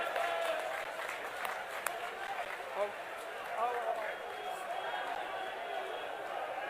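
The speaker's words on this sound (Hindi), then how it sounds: "जोरदार तालियों से स्वागत किया जाए" Applause from a large crowd at a Congress party rally in Panipat, Haryana, welcoming party leaders: a fairly distant, diffuse wash of clapping and chatter, with voices and a public address sound mixed in.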